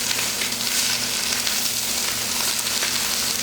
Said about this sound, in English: You should hear a nice sizzle like that.